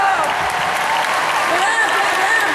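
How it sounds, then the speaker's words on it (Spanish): Dense, steady applause from an indoor crowd fills a Mother's Day celebration at a sports gym in El Seibo, Dominican Republic, after a mother's poem recital, with voices rising over the clapping throughout. "El aplauso para la madre."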